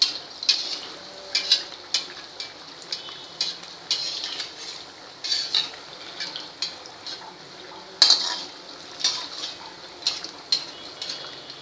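Sweet gulgule batter fritters fry in hot oil while a spoon repeatedly scrapes and stirs the pan, giving a steady sizzle broken by frequent sharp metallic clinks and scrapes.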